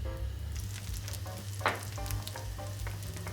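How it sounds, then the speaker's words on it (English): Mushrooms fry in a pan of butter and oil, giving a steady close sizzle with light crackles and a brief stir near the middle, with no talking. "we're now going to get them in the pan with butter, thyme, garlic and a little bit of white wine"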